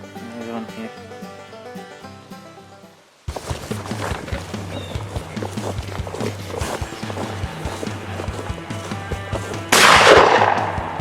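A shotgun fires during a youth pheasant hunt in Pennsylvania fields: a single loud, sharp blast near the end, standing out over a steady, busy outdoor background.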